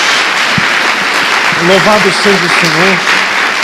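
A church congregation claps steadily throughout, a dense wash of applause beneath a voice as he speaks and praises aloud.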